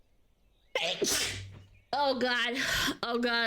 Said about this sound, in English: sneezing still really hurts